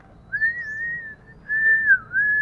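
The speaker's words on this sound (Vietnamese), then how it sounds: "nó biết đòi ăn và nó có tiếng kêu à" Zebra dove (Geopelia striata) chicks about 8 to 11 days old begging for food at feeding time, giving thin, high, sustained whistling calls in two long drawn-out bursts, close and fairly loud with no talking.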